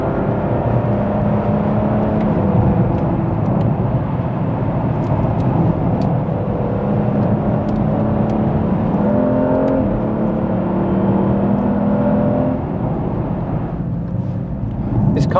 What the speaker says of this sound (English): We'll just take this Rapide on a spirited drive.